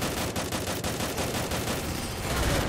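Rapid gunfire in the mobile game Free Fire, a dense rattling stream of shots that stays loud and close for nearly three seconds, with no voices.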